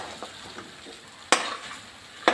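Duck meat fries in oil for a Bengali duck curry, giving a low, steady sizzle with occasional soft scrapes and two sharp clacks of a utensil stirring the pan.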